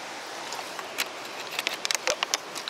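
Small waterfall on the Pissa river in Kaliningrad region, a steady broadband rush of falling water with scattered splashes and clicks near the microphone, no talk.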